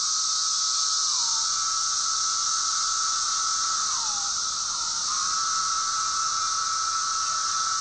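A chorus of male periodical cicadas calling to attract females, a loud unbroken high-pitched buzz with a whining tone that repeatedly slurs downward in short drops, close and with no voices.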